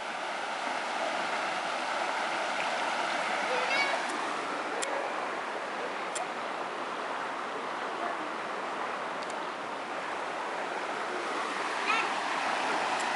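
River water rushes in a continuous broadband roar, steady and close throughout, with a few faint brief clicks and a voice occasionally rising above the flow.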